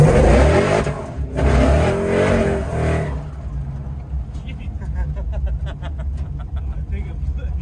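A 1969 Dodge Charger fitted with a swapped Hellcat engine revs in a loud burst, then drops to a lower idling rumble while people talk nearby.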